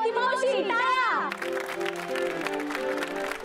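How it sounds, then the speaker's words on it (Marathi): Applause breaks out for a cheerful, much-loved elderly aunt at a Marathi gathering. A crowd claps as a steady wash, following a sung or spoken voice, with sustained musical tones running underneath. "टाळ्या."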